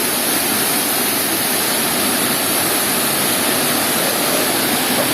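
Angel Waterfall in Way Campang on Indonesia's west coast pours with a steady, loud roar of rushing water that fills the whole stretch without pause, close and continuous with no voices over it.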